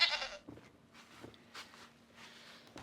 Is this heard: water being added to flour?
no